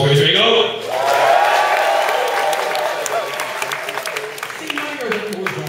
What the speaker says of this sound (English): I want you all to do a test round of applause once again